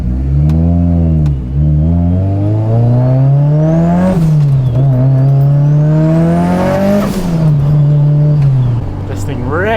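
A Mitsubishi Evo 8 with big cams revs hard and accelerates up close, its loud engine note climbing through repeated gear pulls with brief dips at each shift.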